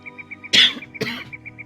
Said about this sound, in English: coughing directly into microphones not helping